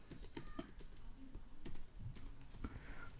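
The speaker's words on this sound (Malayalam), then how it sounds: "അത് ഞാൻ ടൈപ്പ് ചെയ്യുന്നു." Someone types a domain username into a Windows Server 2019 Core login on a computer keyboard, producing quiet, irregular key clicks and taps against a soft background.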